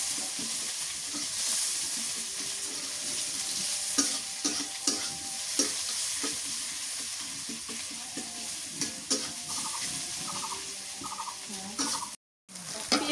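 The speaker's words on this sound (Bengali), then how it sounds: "পেঁয়াজটা লাল লাল করে ভাজে নিই।" Onions fry in a pan for a country chicken and potato curry, a steady close sizzle broken by repeated scraping and clacking as a utensil stirs them, with a brief dropout near the end.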